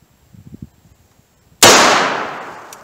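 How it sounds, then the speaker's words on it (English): A single loud .38 Special revolver shot with Hornady Critical Defense 110 gr +P ammunition from a 4-inch barrel cracks sharply after faint handling noises, then rings out in a long, fading echo. "let's see what kind of accuracy and velocity we get with the Critical Defense Plus P out of the 4-inch barrel"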